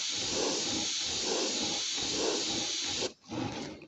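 A Harder & Steenbeck Infinity CR plus airbrush sprays, giving a steady close airy hiss with slight pulsing that stops briefly, then resumes.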